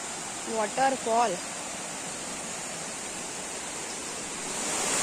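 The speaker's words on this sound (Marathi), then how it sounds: "हा वॉटरफॉल." Waterfall along a village nature walk to Kulaagar in Goa, a steady broadband rush of falling water that fills the whole stretch, with a brief voice speaking over it near the start.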